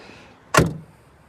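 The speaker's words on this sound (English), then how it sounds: "the sound of these doors" A single solid thunk of an old Ford pickup truck door swinging shut, heard close and alone against quiet surroundings.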